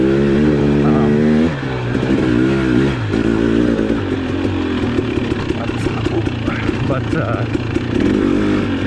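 A 2021 Husqvarna TX300i two-stroke dirt bike runs near and loud with revving, harmonic engine tones that rise and fall, then settle into a choppy, uneven idle and throttle blips, while someone talks over it.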